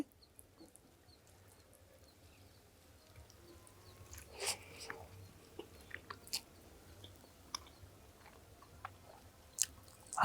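Rice mixed with ulavacharu, a horse gram soup, being eaten close to the microphone: faint, scattered soft chewing and squishing clicks over a quiet outdoor background, with a couple of louder bites.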